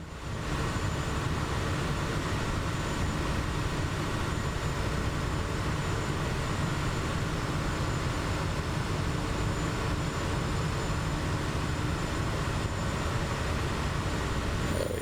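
A Kodiak 100 turboprop sits throttled back to idle in Microsoft Flight Simulator 2024, giving off a steady, dense engine drone with an airy rush that holds unchanged for the whole stretch.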